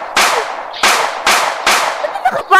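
Gunfire in the Roblox Brookhaven game: four loud, sharp blasts about half a second apart, each with a short decaying tail, followed by a few quicker pops.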